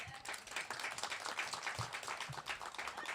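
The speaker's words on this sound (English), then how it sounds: "So another round of applause for Grinch" Audience at a poetry open mic claps for a performer, a dense, fairly faint burst of applause with low thumps scattered through it, sustained for a few seconds.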